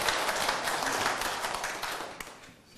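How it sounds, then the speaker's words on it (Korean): Audience applause at a lecture session, dense clapping from a room full of listeners at moderate volume that gradually thins and fades toward the end. "박수 한번 부탁드립니다."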